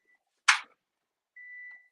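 A sewing or embroidery machine sounds its alarm because a door was left open: a brief sharp click followed by a steady electronic tone, near and clear in a quiet room.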